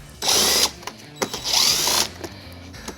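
A tool spins off 9/32 hex nut fasteners beneath the front fascia of a 2015 Chevrolet Corvette. There are two close, whirring ratchet-like bursts, each about half a second long, with small clicks between them.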